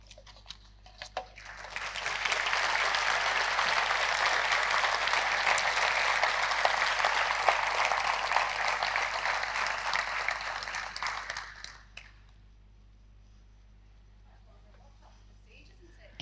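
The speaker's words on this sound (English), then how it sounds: "Can we get another round of applause for Myrtle, please?" Audience applause after a keynote speech at an impact investing conference, a dense sustained clapping from a large crowd lasting about ten seconds before tapering off into quiet room tone.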